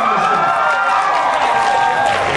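Audience at AnimeNext 2015 cheering and shouting, a loud close roar of many voices holding steady throughout.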